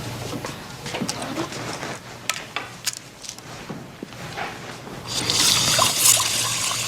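Water splashes and trickles into a glass amid light clinks and handling noises, with a steadier hissing pour rising toward the end, heard close up without talk.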